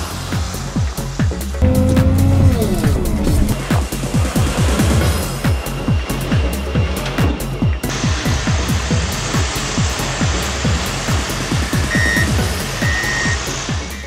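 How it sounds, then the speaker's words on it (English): Volvo material handler working a load, with deep diesel engine rumble, hydraulic strain and clanking close by, and a vehicle reversing alarm beeping twice near the end. "Volvo is actually loading pretty nicely."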